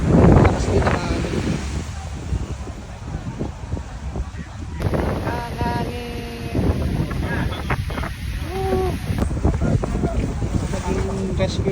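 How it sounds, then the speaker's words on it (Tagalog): Strong wind left over from a typhoon buffets the microphone on an island boat tour off El Nido, Palawan, a loud, continuous rumbling roar with people talking over it. "lakas din ang hangin"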